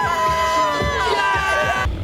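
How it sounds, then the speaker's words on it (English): A packed, lively crowd at a live event fills the air with a loud, continuous murmur of voices and whoops, with a low rhythmic throb pulsing beneath it. "Event's going sick, it's packed, nice hungry crowd"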